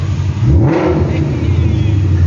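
Ford Shelby Mustang GT500 engine revving loudly and steadily up close, a deep exhaust roar that rises and falls slightly over a couple of seconds, with no talk over it.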